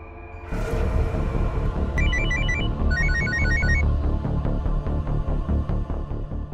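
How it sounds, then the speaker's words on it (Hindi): An electronic phone ringtone trills in short repeated bursts over a steady droning background, no one answering. "फोन उठाओ सूरज, प्लीज फोन उठाओ।"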